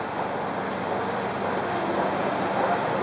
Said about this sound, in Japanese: 浅草行きの到着です。